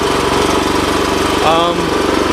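A steady, loud 1983 Honda 200X motorcycle engine idling slightly high with a rough, even putter throughout, and a brief voice-like sound briefly rising above it.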